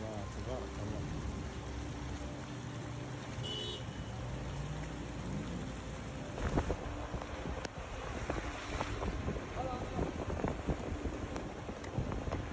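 Floodwater and storm wind during a thunderstorm in Taif, Saudi Arabia, make a loud, continuous rushing roar with gusty buffeting and a few sharper knocks, and no distinct thunderclaps stand out.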